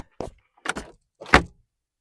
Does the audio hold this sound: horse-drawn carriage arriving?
no